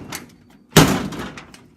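A truck door slams shut with a single loud, close thud, followed by a brief rattling tail as the old, rust-repaired body settles.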